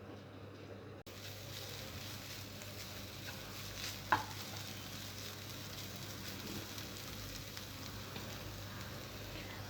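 Sugar being stirred in a pan as it melts for carrot laddu, a steady soft sizzling hiss with faint scraping throughout and one brief louder clink midway, no voices.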